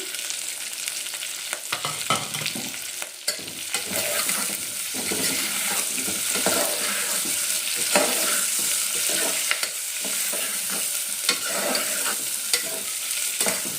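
Onions and green chillies sizzle steadily in a hot pan for mutton dum biryani, a constant close frying hiss broken by repeated scraping stirs, with a brief splash of tap water midway and no talking.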